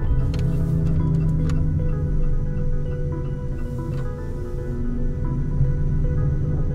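A Renault Zoe electric car gives off a steady, low droning hum as it slows toward a corner or roundabout, continuous and fairly even throughout with no talking.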